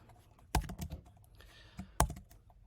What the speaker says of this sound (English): type in what you'd like to replace it with